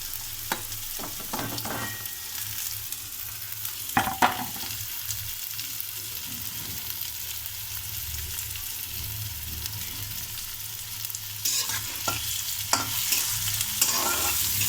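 Frying in a pan toward light golden while making aloo paratha, a constant hissing sizzle with intermittent spatula scrapes and clicks clustered near the start and end.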